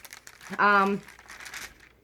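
A paper stipple quilting template with a sticky back crinkles briefly at close range. A voice talks around it and overlaps the sound.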